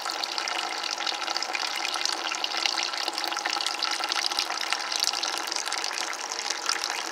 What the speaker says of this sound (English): I just want to see the whole thing flow out the size of the end of that tube right there.